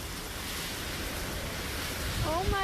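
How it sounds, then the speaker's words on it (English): Strong wind blows steadily across a microphone by open water, a broad continuous roar with surf-like wash, joined near the end by a brief excited voice. "this is crazy wind, mate."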